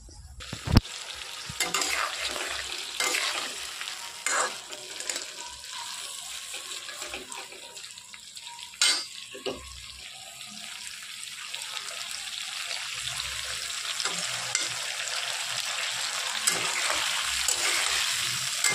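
Prawns fry in a pan with a steady sizzle broken by sharp pops and the scrape and clatter of stirring, fairly close and moderately loud throughout.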